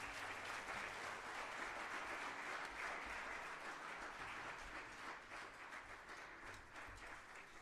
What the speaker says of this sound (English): A good round of applause for our chief guest